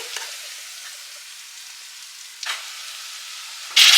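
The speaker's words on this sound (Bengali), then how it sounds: "বেসিক ড্রাই স্পাইসেস অ্যাড করছি।" Basic dry spices hit onions frying in a pan, making a steady close sizzle with a stirring scrape midway and a sudden loud burst of hissing at the end.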